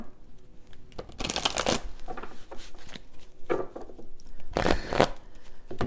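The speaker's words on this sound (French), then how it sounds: "Je vais bien mélanger le jeu." A deck of tarot cards being shuffled up close, two or three bursts of riffling and rustling separated by quieter pauses.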